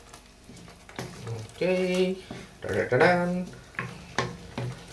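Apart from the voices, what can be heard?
stirring paneer masala in a pan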